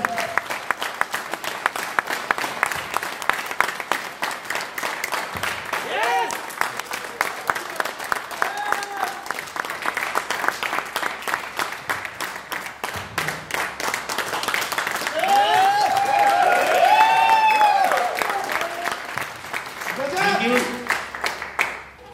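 Loud audience applause at a motivational seminar as an Emerald Achiever is called up on stage, a steady roar of many hands throughout with some voices heard over it, swelling near the end.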